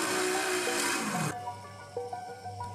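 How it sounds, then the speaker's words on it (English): A power drill bores holes in a small gadget case: a harsh, loud high-pitched whir that drops and cuts off after about a second, followed by quieter scraping and handling. "I also drilled several holes for attaching assembly units and one large hole for the camera lens."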